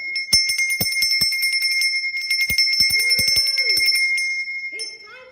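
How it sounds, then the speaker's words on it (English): A small bicycle-style bell rings repeatedly in quick bursts, bright metallic dings clustered in a brief sequence, pausing, then ringing again, close and clear with almost no other sound. "I didn't ring the bell."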